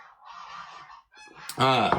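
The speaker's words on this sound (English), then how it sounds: "Again, you hear my geese." Domestic geese honk in a rapid harsh series outdoors, a softer honking run first, then a short pause, then a much louder close burst of calls.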